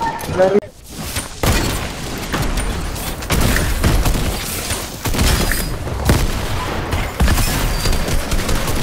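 Rapid gunfire bursts in Fortnite gameplay, repeated cracks and booms in clusters over several seconds, with excited voices talking over the shooting.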